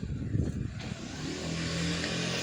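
A motorbike approaching along a forest road, an engine drone building steadily from faint to louder and closer, with a brief rustle near the start.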